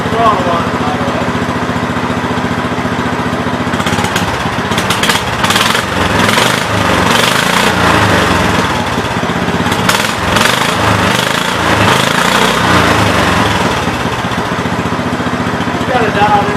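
A Kawasaki-powered Gravely 5200 tractor engine runs loud and close, a steady rough chugging idle with uneven knocking pulses, while a person talks over it.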